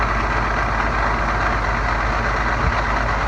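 A 2009 tandem bucket truck's diesel engine idling, a steady loud low rumble with broad mechanical noise, close up and unchanging, with no voices.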